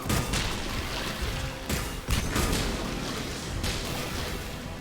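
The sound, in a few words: gunfire in the Mass Effect 3 video game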